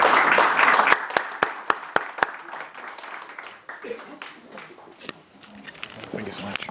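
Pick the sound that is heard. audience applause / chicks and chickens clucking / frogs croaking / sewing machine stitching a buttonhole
audience applause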